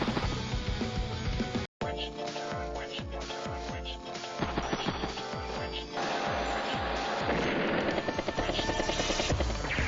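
Helicopter rotor thudding in steady rhythm alongside dense game music and explosive impacts from Advance Wars: Days of Ruin, loud and continuous with a brief dropout near the start.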